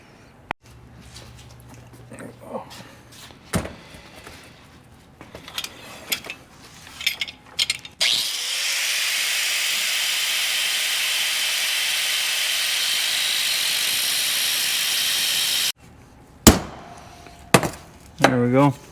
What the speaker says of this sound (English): Now we'll just take a die grinder. We're just going to cut the race, pop it off.